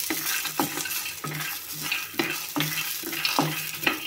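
Dried coconut is stirred and roasted in a pan over a medium flame, a spatula scraping and knocking the pan in a quick repeated rhythm over a soft, steady sizzle.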